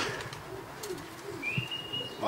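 Low, soft cooing of racing pigeons nearby after a 150 km competition flight, a few murmured calls over faint background noise with a brief chirp near the end.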